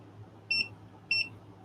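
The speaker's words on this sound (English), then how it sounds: "There's our beep." Two short, high electronic beeps about half a second apart over a low steady hum, fairly quiet.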